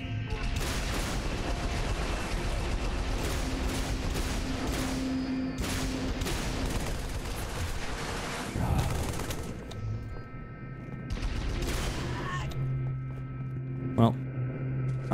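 Turret gunfire in Halo 3: ODST, sustained rattling bursts under ongoing game noise, with someone talking over it and a sharp bang near the end.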